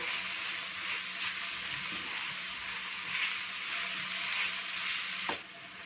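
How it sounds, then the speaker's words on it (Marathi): Chopped onion and tomato sautéing in a pan for a Konkani-style dry fish fry, giving a steady close sizzle with a few soft spatula scrapes and no talking. "आता आपला कांदा टोमॅटो छान परतून झाला"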